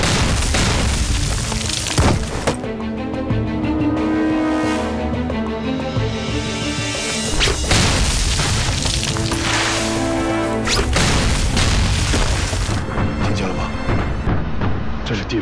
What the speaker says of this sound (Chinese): 地雷的声音，如果我没听错的话， 应该是炸战车的地雷，也就是可以炸坦克用的。